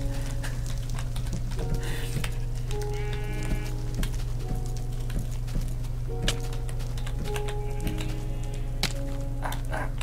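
Sheep bleat repeatedly in a jungle island survival video game, with several clear calls spread across the stretch over a constant low in-game hum and occasional dull thunks.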